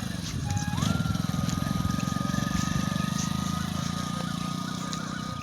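A low, steady engine drone chugs throughout at moderate distance, with a faint whine rising above it and light background noise.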